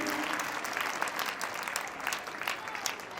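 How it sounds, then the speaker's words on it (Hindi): A crowd at an annual school prize distribution ceremony applauds a top-scoring student, a strong, sustained round of clapping heard at close range. "एक बार फिर से तालियां बनती है इसके लिए।"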